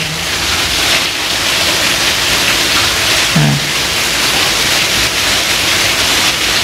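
Torrential rain pours in a constant, loud hiss nearby, and someone says a single brief word partway through.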